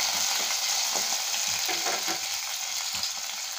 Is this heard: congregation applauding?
no